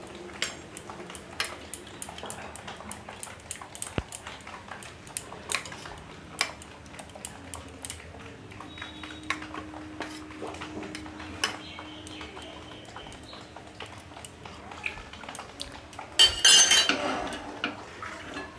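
Hilsa fish pieces are mixed by hand in a bowl with slit green chilies and Kashmiri chili powder for a Bengali steamed malaikari, giving quiet, scattered clinks and soft scrapes against the bowl with no talking.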